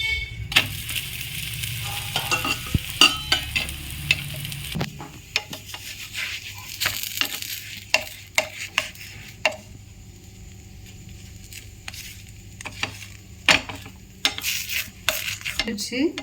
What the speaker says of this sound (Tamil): இப்போ ஒரு பக்கம் வெந்துச்சு, இன்னொரு பக்கம் திருப்பி போட்டுக்கலாம்